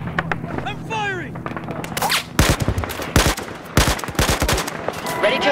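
Battlefield 4 machine guns rattle in sharp, loud bursts of rapid fire, with pauses between the volleys. Faint radio-like voices and chirps sit underneath the gunfire.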